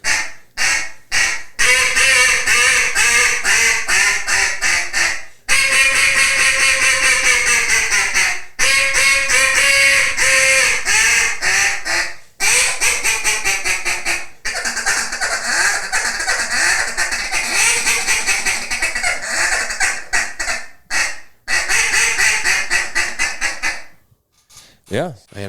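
A duck call blown hard and close, giving loud, rapid runs of raspy quacks that go on for about twenty-five seconds with only brief breaks between bursts.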